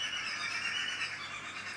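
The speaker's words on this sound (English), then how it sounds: "Can you hear those birds?" Birds calling outdoors in Africa, a dense, shrill chorus of overlapping high-pitched calls and squeals that holds steady, moderately loud, with no talking.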